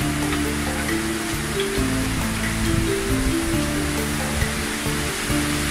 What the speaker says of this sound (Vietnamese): Sáng nay trời Phan Thiết mưa đó các bạn.